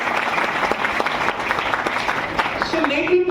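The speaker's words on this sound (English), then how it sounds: "I want everybody to clap for your own self." Students in a hall clapping for themselves at a coding club induction program, a dense, even round of applause with faint voices mixed in.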